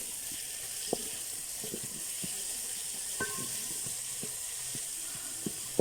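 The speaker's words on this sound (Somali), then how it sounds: "hilibkan walaaqaya" Chicken meat pieces frying with onions in a pan, a steady soft sizzle with occasional light scrapes and clicks of stirring, quiet and close, no talk.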